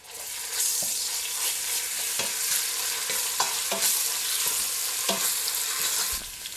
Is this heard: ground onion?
yes